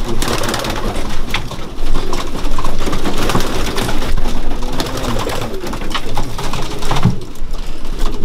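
Pigeons in a breeding loft coo steadily, layered low calls from many birds close by, with rustling and shuffling throughout.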